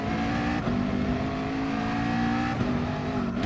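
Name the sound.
race car engine in the video game GT Sport, Barcelona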